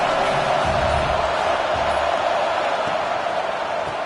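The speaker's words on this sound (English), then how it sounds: "this crowd trying to help keep them there" A football stadium crowd cheers in a broad, steady roar with no clear peaks, filling the space at a constant level while a voice is faintly present beneath it.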